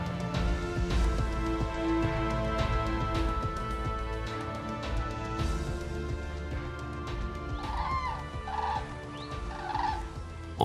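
Common cranes call with loud, bugling trumpet-like cries as they take off, several calls sounding over a busy outdoor background with rustling and bumps.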